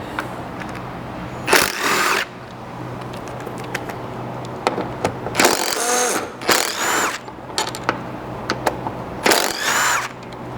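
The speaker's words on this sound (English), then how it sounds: "grab a 12mm socket, and then you can pull the single center bolt here, as well as the 2 mounting bolts" A 12mm socket on a ratchet or driver removing roof rack bolts from a 200 Series Land Cruiser: several short bursts of close whirring and clicking separated by pauses, over a steady low background hum, no talking.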